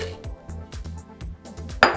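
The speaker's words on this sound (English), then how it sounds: "I'm going to put in my 3 cups of brown sugar" Brown sugar goes into a pot for Southern pecan pralines, with a quick regular series of metallic clinks and taps from a measuring cup knocking the pot rim, close and fairly loud, ending in a heavier thud.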